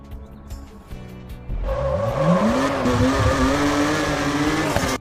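A car in the racing video game Drive Zone Online roars as its revs climb steeply into a loud drift, with tire squeal holding over a sustained engine whine; no one talks.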